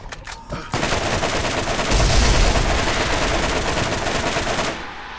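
Sustained automatic gunfire from the video game Borderlands: a dense, continuous rattle of rapid shots lasting several seconds, loud and close, swelling briefly mid-burst before cutting off abruptly.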